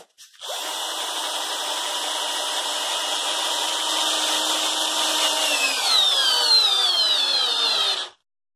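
WUBER WR-CD-19N 12V cordless screwdriver driving a 16 cm carpenter screw into wood, a steady close whirring motor drone lasting about eight seconds, its pitch shifting slightly near the end before stopping abruptly.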